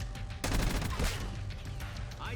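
In the video game Black Ops 6, an XM4 SMG lets off a rapid burst of loud gunfire, with overlapping reports, then a short voiced exclamation.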